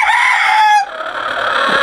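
A rooster crows loudly and close, a harsh, strained call that breaks off partway, followed by quieter trailing noise.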